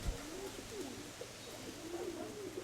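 A pigeon coos in soft, repeated low warbling calls close by, fairly faint against a quiet room background.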